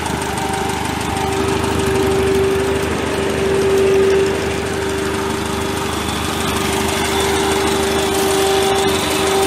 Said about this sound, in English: You can hear the pump now.